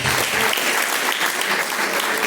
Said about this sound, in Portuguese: Palmas, louva a Deus.